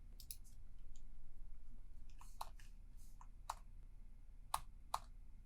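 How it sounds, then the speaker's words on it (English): Computer keyboard keys pressed in short, sparse taps, a handful of distinct clicks spaced about a second apart, faint and close, with no talking. "I just hit the up arrow on my keyboard to get the previously issued command."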